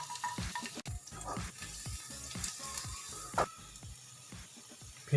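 Chopped garlic hitting hot refined oil for shahi paneer gives a steady close sizzle and crackle, with a string of soft spoon scrapes and small pops running through it.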